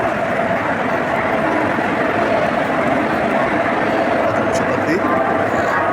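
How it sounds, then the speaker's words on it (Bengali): A long-distance train passes at Howrah station in a steady, loud rumble with rail clatter that fills the whole stretch, while a station crowd murmurs underneath. "দূরপাল্লার ট্রেন দেখলেই ভালো লাগে।"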